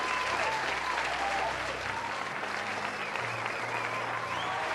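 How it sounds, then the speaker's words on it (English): An audience claps and cheers in a sustained burst of applause, dense and steady throughout, with faint voices underneath. "Can we clap for that?"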